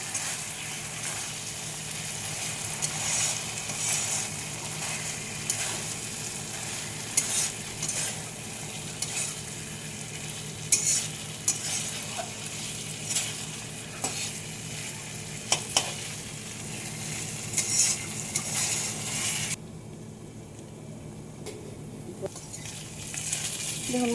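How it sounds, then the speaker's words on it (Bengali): Fried potatoes and spice masala for an egg potato curry crackle and sizzle steadily in a pan, with frequent stirring scrapes and clinks throughout, briefly quieter near the end before the frying noise returns. "দেখুন এইভাবে মশলা আর আলু কষিয়ে নিতে হবে।"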